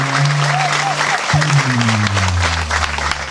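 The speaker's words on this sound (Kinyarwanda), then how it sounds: "Aya ni amashyi ya." Steady, full applause fills a church gathering, many hands clapping together at close range while a voice speaks over the clapping.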